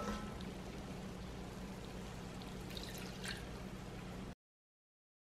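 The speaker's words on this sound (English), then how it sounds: "We're gonna add more water." Water is poured into a pan of cooking onion jam, giving a soft, steady trickle and drip for a few seconds before stopping abruptly.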